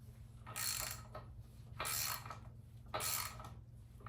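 A BMW N55 engine crankshaft turns in its freshly torqued bearings, three slow rotations heard as close, faint mechanical whirs and creaks with quiet pauses between.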